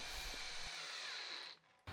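A power drill boring a hole in a lawnmower deck, a steady high whine for about a second and a half before cutting off, then a brief restart.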